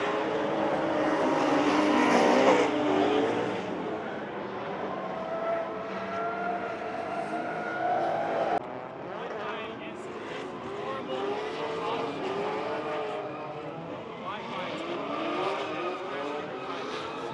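Drift cars run in tandem at Owosso Speedway during a Michigan drifting event, with engines revving and rising and falling, tires squealing, and the sound heard from a moderate distance. Nobody speaks over it.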